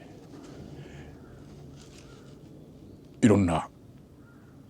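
A single crow caws once, loud and close, in a short harsh burst over a low outdoor background, with quiet talk around it.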